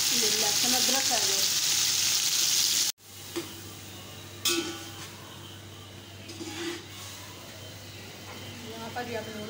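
Garlic and ginger fry loudly in a pot for a Pakistani meat pulao, a hot, hissing sizzle for about three seconds. It then drops to a faint background crackle under a low hum while someone talks.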